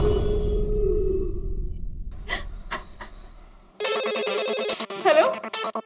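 A telephone ringing in a home, a bright electronic ringtone with a warbling melodic pattern, fairly loud and alone after a few sharp clicks.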